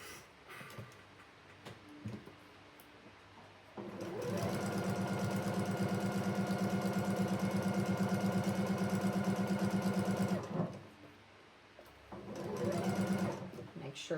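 A sewing machine stitches a quilt seam in two runs, a long steady whirring burst and then a shorter one, loud and close. Quiet talk fills the pauses before and between the runs.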